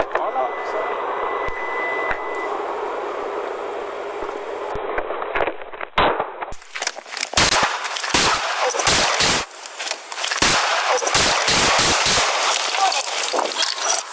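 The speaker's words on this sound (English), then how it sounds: "Officer needs help, shots fired." Gunshots ring out during a police incident in a rapid, loud run of sharp bangs after a stretch of steady rumbling noise, with voices heard around them.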